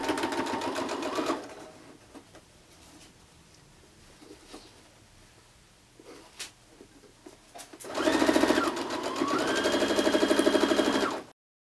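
A sewing machine stitches quilt block rows together for a nine patch block, in two loud runs of steady rapid stitching, a short one at the start and a longer one near the end, with a quiet pause between.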